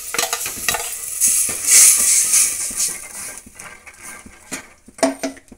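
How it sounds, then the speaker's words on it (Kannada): Ground sambar masala added to fried horsegram in a pan, with stirring, sizzling and scraping against the pan, close and irregular. "ಇವಾಗ ನಾವು ಸಾಂಬಾರು ರುಬ್ಬಿಟ್ಕೊಂಡಿದ್ದನ್ನ ಮಸಾಲೆನ ಅದರ ಜೊತೆಗೆ ಹಾಕೋಣ."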